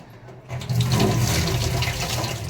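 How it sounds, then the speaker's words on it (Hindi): Vegetables are washed under a running tap, a loud close rush of water that starts after a brief quiet moment and then flows steadily, with no voices. "तो सब्जी को अच्छे से वॉश कर लेते हैं, अच्छे से धो लेते हैं"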